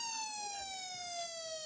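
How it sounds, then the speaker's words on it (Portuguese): Siren sound effect played over a live stream, a steady wailing electronic tone gliding slowly downward across the whole moment, moderately loud with no talking. "a minha equipe vai colocar essa sirene aqui, ó, não se assuste"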